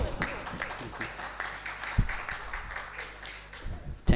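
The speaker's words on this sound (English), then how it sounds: "let's give once again a big round of applause" Audience applause at a technical session of a conference in Manipur after university students sing, steady clapping with scattered louder claps and a faint voice at times underneath, ending in a sharper burst.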